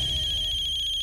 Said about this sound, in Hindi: जब देखो तब फोन बज जाता है